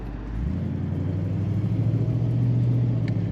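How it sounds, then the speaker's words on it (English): Low, steady exhaust rumble from a 1960 Cadillac Series 62 convertible with an automatic transmission, idling or running slowly nearby, a deep drone that thickens after the first half second and holds steady. "Love that rumble to the exhaust."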